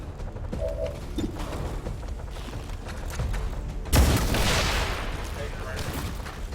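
Gunfire at a mech in the video game XCOM 2, with steady background game noise and a sudden loud burst of shots and a booming blast near the four-second mark that trails off into rumble, while someone talks over it.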